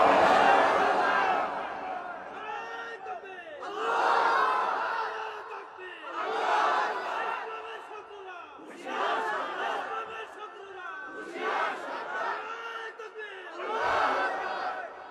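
A large crowd shouts a chant in repeated bursts at a religious gathering in Kotiadi, Kishoreganj, each loud collective roar rising and fading in a steady call-and-response rhythm with a gap of a second or two between bursts.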